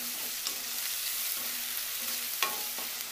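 Ingredients for a brinjal and potato curry fry in a pan, giving a soft, steady sizzle with occasional light clicks of a stirring spoon against the pan.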